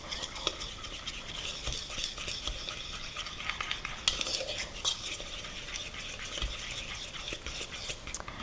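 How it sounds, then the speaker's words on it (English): A fork stirs cookie dough by hand in a bowl, giving a steady, close scraping and clinking of metal against the bowl with a few sharper taps, no talking. "I have to just stir it up with a fork, blending it."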